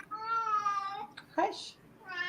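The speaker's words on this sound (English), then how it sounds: "Your cat wants to get in the conversation." A house cat meows close by, with a drawn-out first call, a brief scuffling noise and then a second meow starting at the end.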